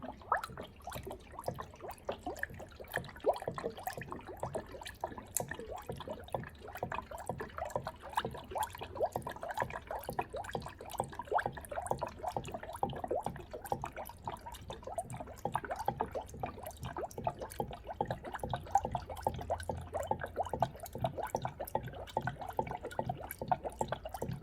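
Coolant is poured into an Audi during a coolant change, a faint, continuous trickle with rapid irregular drips and gurgles throughout.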